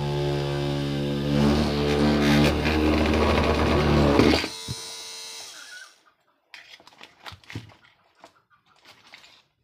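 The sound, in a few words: 775 DC motor cutting a copper PCB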